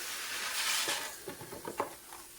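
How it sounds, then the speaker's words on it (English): Orzo toasting in olive oil with garlic in a pot: a soft steady sizzle, then scraping stir strokes and light pattering clicks as the pasta is moved around. "What I want to do is I want to toast the orzo, give it like a nice light brown coating"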